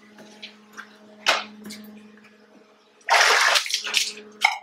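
Excess milk splashes and drips off a dairy teat dipper on a farm, several short wet splashes followed by a longer pouring rush, close and fairly loud against a steady low hum.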